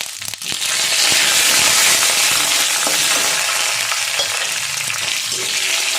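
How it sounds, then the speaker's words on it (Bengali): Tomato, peanuts and lentils frying in oil in a pan, a loud, constant close-up sizzle with crackling pops that starts after a brief quiet moment and holds steady to the end, with no talk. "টমেটোটাও একটু ভাজা ভাজা করবো"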